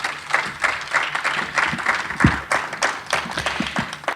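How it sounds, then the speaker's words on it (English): An audience clapping at a tribute event, steady applause with sharp individual claps standing out, moderately loud and sustained throughout, with a faint voice underneath. "Clap your hands, everybody."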